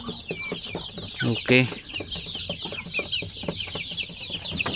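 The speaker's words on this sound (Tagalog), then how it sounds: "So actually marami tayong sisiw ngayon at nagsimula na rin dumami yung ating mga manok." Chickens and hens clucking inside a coop with many chicks, a busy chorus of clucks and chirps with one louder squawk, close by, while a person briefly speaks.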